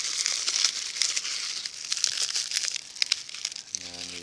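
Dry corn husk pieces crinkle and rustle as they are folded down for a doll, a close, continuous papery crackle with small sharp snaps, a faint hum creeping in at the end.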